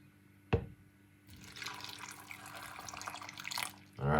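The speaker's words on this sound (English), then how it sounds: "Now, what we're gonna do is put some water inside of it." A cup of water is poured into a homemade Jamaican drink mixture: one sharp knock, then a steady splashing, gurgling pour for a couple of seconds, ending in a louder thud.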